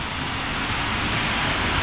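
Rain falls steadily outside as a dense, even hiss with no breaks or voices.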